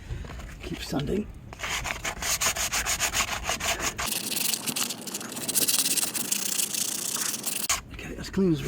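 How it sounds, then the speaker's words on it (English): Sandpaper worked by hand over the gel coat of a bass boat hull during a keel guard repair: quick rhythmic rubbing strokes, then steadier, harsher continuous scraping, close and fairly loud. "Keep sanding."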